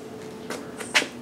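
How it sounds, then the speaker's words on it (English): A clothes dryer door is pushed shut: a soft sliding contact, then a short, sharp latching click near the end, close and fairly quiet in a still room. "shutting the door."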